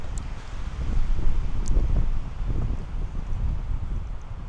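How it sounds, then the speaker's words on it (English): Strong wind gusts buffet a winter campsite with a bench and small fire pit, a steady low roar rising and falling with wind noise on the microphone and faint rustling. "It's pretty windy right now."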